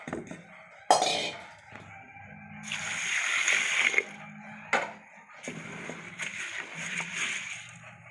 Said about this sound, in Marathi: इथे आपण मठाची डाळ 1 ते 2 पाण्याने स्वच्छ धुवून घेणार आहे।